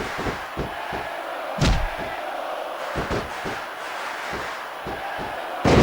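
In the video game SmackDown Vs. Raw 2006, a large arena crowd roars continuously in the background while heavy wrestling thuds and slams land at irregular intervals, with a louder burst of cheering near the end.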